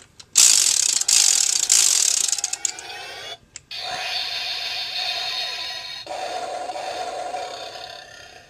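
A loud electronic toy sword effect from a Shinkenmaru sword with Inromaru disc: bright mechanical ratcheting and whooshing bursts, then a sustained synthetic roar with shifting tones.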